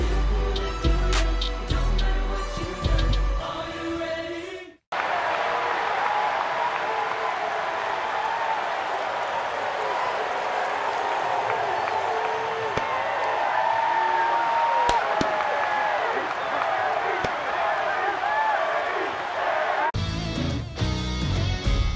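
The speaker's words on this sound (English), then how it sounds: "And when these performers step up, the crowd loses its mind." A stadium crowd at a St. Louis Cardinals versus Chicago Cubs regular-season baseball game cheers and applauds in a steady, roaring wash that lasts about fifteen seconds, with music and other sound before and after it.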